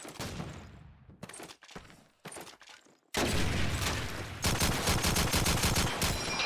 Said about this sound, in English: He drew out 8 M1 shots from wrenches, and then another 8 came his way